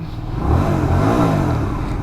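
A Hyosung GV125 Aquila 125cc beginner cruiser motorcycle, cold-started with the choke on, revs steadily with a rough, throaty exhaust drone close by.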